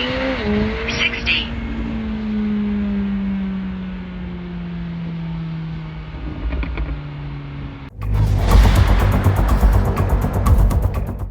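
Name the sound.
McLaren 765LT Spider twin turbo V8 accelerating 0 to 60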